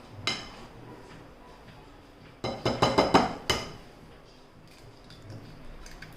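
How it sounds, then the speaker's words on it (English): An egg being cracked against a bowl, a quick burst of several sharp taps and clicks close by, with a few softer knocks before and after. "So at this point I will break an egg."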